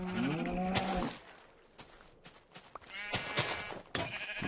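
Sheep bleats from a blocky survival video game, a couple of short wavering calls early on, then quieter game sounds and another cluster of bleating near the end.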